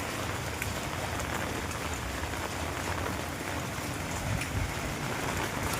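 Continuous rain pours onto a flooded street on the way to a hospital, a dense, even hiss of drops splashing on standing water with no break and no talk.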